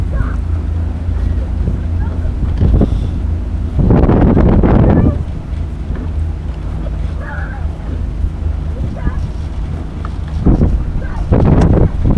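Wind buffets the microphone in heavy low rumbles during a rowing race, with stronger gusts surging in bursts over a steady roar of water and motion.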